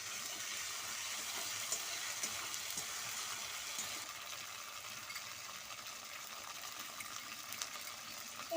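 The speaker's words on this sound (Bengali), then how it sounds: "এবার দিয়ে দিচ্ছি আমি আগে থাকতে বেটে রাখা জিরে। এবার দিয়ে দিচ্ছি। জিরেটা দিয়ে খুব ভালো করে মিশিয়ে নেব।" Tomato frying with ground cumin paste in a pan for a Bengali rohu fish curry, a steady soft sizzle with faint stirring scrapes throughout and no talk.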